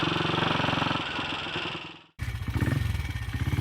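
A 1960s BSA Starfire 250cc motorcycle engine runs close by with a steady, pulsing single-cylinder chug and mechanical clatter, cutting out abruptly for a moment before picking up again at a similar idle-like beat.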